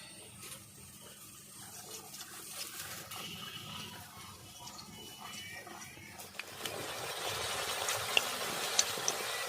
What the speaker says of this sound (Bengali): কড়াইতে তেল গরম হয়ে গেছে কচুরি ছেড়ে দেব